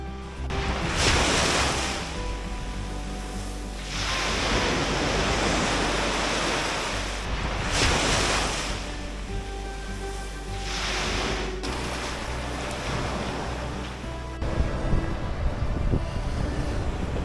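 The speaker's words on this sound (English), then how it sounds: "we find ourselves going onto the beach from the campsite" Waves surge and break on a Suffolk east-coast beach beside a campsite, each roar building and fading in slow repeating cycles, with wind buffeting the microphone and no speech.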